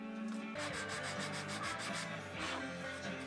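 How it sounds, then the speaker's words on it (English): Wood being hand-sanded while shaping a dartboard cabinet, a steady rough rubbing with rhythmic back-and-forth strokes, close and continuous with no talking. "I did some sanding to clean them up."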